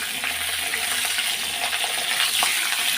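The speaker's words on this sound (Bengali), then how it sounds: "আলুটা লাল লাল করে ভেজে নিই।" Potatoes fry in a pan for a Bengali potato curry, giving a dense, even sizzle with small pops and clinks close by, with no talking.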